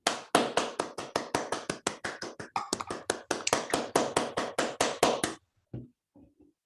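A conference audience giving the organizers a big clap: roughly two dozen sharp, evenly spaced claps ring out over about five seconds, close and crisp, then stop abruptly, followed by a few faint noises.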